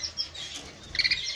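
An Isabela canary, a melanin-type cage bird, gives a quick run of bright, high chirps and tweets, several short notes close together over little more than a second, near and clear.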